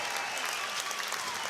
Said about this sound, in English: give one more round of applause once again